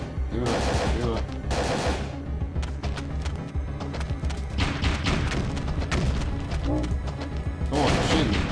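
Gunfire in the video game Parasite Eve 2, with dense, continuous bursts of shots and heavy impacts layered over game music and effects, loud throughout, while players talk over it.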